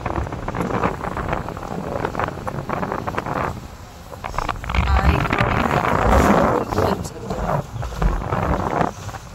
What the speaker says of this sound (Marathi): थंडगार अशी वारा सुटलाय आणि पाऊस धरलाय सगळीकडे.